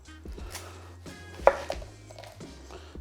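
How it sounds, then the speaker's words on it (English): A knife chopping an onion in half on a cutting board, giving a few close, crisp thuds against the board, with one sharp louder cut in the middle. "Start with the onion. So we're going to just crack it in half"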